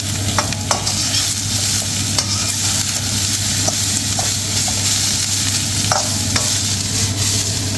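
Bean sprouts and other vegetables sautéed briefly for chicken stir-fry noodles, a loud continuous sizzle with a low hum beneath and occasional sharp clicks of a utensil tossing the pan.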